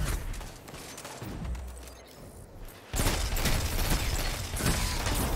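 Rapid bursts of video game gunfire from the Outbreak Perfected pulse rifle trading shots with a hand cannon in a Destiny-style firefight, dense rattling volleys that grow louder and more continuous partway through, with no talk.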